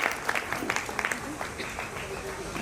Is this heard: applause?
yes